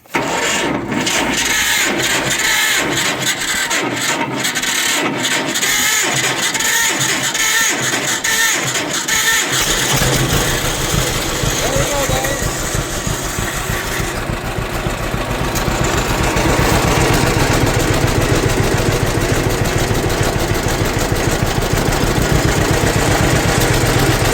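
A vintage tractor, either a 1947 Farmall A or a 1954 John Deere 60, cranks over loudly for about ten seconds, catches and settles into a loud, steady, rumbling idle close by.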